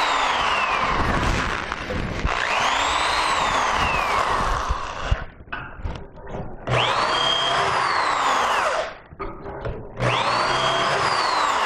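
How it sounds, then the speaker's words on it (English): A loud power drill whines steadily as it bores three-quarter-inch dowel holes into wood, pausing briefly twice before revving up again, close by. "Now the drill is set to three quarters of an inch penetration."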